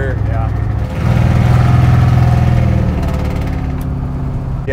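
A '67 Chevy C10 truck's Black Widow performance exhaust gives a deep, throaty rumble that swells and holds loud for a couple of seconds, then settles into a steady low growl, with voices talking over it.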